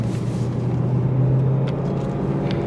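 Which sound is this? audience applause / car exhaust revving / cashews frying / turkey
car exhaust revving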